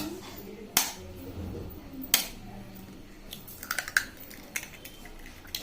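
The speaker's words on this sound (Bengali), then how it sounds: "প্রথমে কি করব আমি ডিমগুলো ফাটিয়ে নেব" Eggs being cracked in a kitchen while making a bread and milk toast breakfast: two sharp taps stand out early, followed by a cluster of softer clicks and shell knocks, close and fairly quiet.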